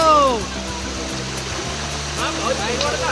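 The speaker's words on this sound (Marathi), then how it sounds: "हा खूप मोठा वॉटरफॉल आहे पण पाणी कमी आहे" A big waterfall at Adai near Panvel, running with low water, gives a steady broad rush of falling water, with voices talking over it.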